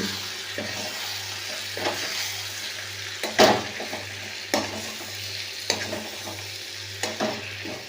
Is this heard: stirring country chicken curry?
yes